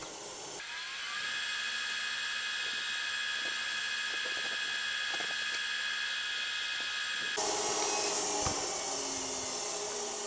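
Wood lathe spinning a scrap-wood pen blank during friction polishing, a steady whining hum with a high tonal band that runs continuously, then shifts in pitch near the end as the machine winds down.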